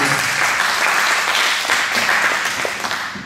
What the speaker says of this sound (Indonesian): Yuk tepuk tangan dulu buat Tuhan.